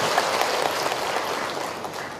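An audience claps at a Buddhist community event, a dense, steady burst of applause from many hands, fairly loud and continuous throughout.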